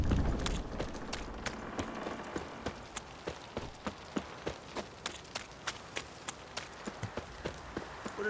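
Hooves clip-clop steadily as horses walk in the video game The Witcher, with regular, fairly crisp footfalls close by over a soft background bed.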